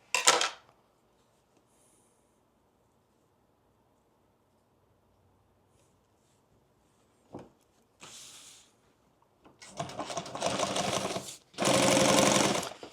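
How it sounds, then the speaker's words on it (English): A sewing machine stitches a ballistic nylon duffle bag in loud, close bursts of rapid motor whirring, the longest near the end, separated by quiet pauses and a short thump. "when I'm like sewing really fast and I slow down, it like downshifts."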